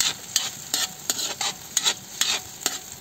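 Bagoong, a fermented shrimp paste, sizzles in a hot pan while being stirred, giving about eight sharp scraping strokes at a steady rhythm over a bright crackling hiss, close and fairly loud.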